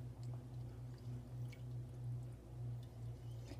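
Wool locks are dipped and squished in hot soapy water, giving faint, rhythmic wet squelches and soft drips at a quiet, close level.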